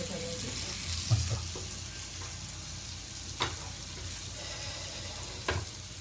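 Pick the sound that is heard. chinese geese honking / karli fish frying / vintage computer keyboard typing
karli fish frying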